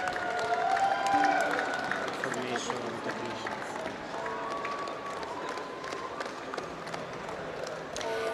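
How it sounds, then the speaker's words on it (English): Audience applause at a university commencement ceremony for MBA and executive master graduates, steady crowd clapping from a large hall with cheering mixed in, fairly distant and somewhat under ambient voices. "A big applause for them, please."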